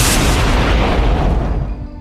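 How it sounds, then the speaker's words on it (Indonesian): A massive, loud explosion in an animated martial arts story roars with a deep rumbling boom that fills the clip, slowly fading as its high crackle dies away. "Dengan ledakan yang cukup besar itu, apa-apaan ledakan besar ini?"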